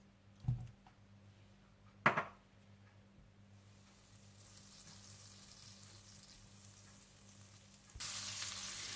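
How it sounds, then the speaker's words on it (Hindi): Butter melting and sizzling in a pan to temper dal makhani: a faint, steady sizzle builds after two brief clatters and turns louder and hissier near the end. "इसका भगार लगाने के लिए आप मक्खन गर्म कर लें"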